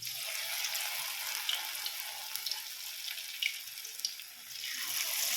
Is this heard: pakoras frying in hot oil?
yes